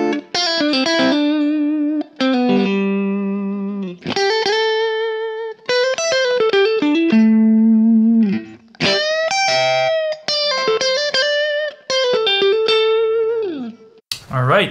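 Electric guitar, a Sire S7 with Lace Sensor Gold HSS pickups, with a clean tone, picked notes and chords played in short phrases separated by brief pauses, bright and close.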